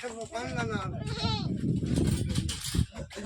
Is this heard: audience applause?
no